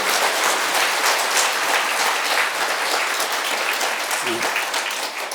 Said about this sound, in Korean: 오늘 박수 한번 칩시다.